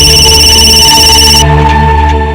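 A phone rings loudly and close by with a steady electronic tone that holds for a moment and then shifts to a softer ring as it continues, with no voices over it.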